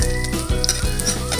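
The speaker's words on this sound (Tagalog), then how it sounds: "magigisa na po tayo" Loud, steady sizzle of garlic being sautéed in hot oil in a frying pan, crackling continuously at close range as a home-style liver and egg dish is cooked.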